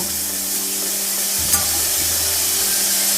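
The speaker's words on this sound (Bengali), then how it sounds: "নুন আর হলুদ গুঁড়োটা দিয়ে খুব ভালোভাবে নাড়াচাড়া করে নিচ্ছি টমেটোটাকে" Tomatoes with salt and turmeric stirred in a hot pan for a Bengali tomato chutney, a steady close sizzle with light scraping of a spatula and one brief knock, no voices.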